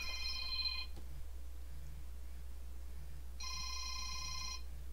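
A Kyocera cell phone rings with an electronic trill in two bursts separated by a pause, fairly faint over a low steady hum.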